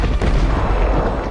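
A loud, sustained explosion shockwave in a dinosaur movie, a dense roaring boom filling the whole short moment with no voices over it.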